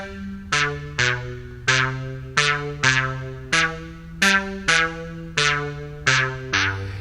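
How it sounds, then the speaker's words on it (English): Bass line from a student song project, played as a steady series of about a dozen plucked, sustained low notes, each struck cleanly and decaying before the next, alone and fairly loud. "My bass line sounds like this."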